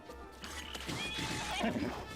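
A horse in The Legend of Zelda: Breath of the Wild neighs with a rising and falling whinny alongside hoof clip-clops, set against game background sound and faint talk.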